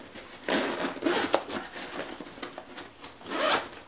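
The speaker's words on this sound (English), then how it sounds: "which we can unzip" Main compartment zipper on a Highspeed Gear day pack being unzipped close up, a few quick rasping pulls of the zip in short bursts, fairly quiet with no talking.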